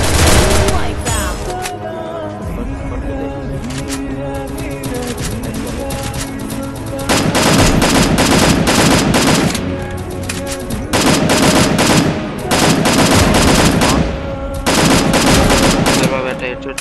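MP40 submachine gun fired in a solo-versus-squad battle royale video game, loud rapid automatic bursts, some long and sustained, others short, with brief gaps between volleys.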